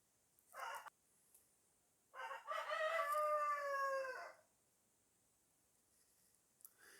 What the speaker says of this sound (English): My rooster's going nuts.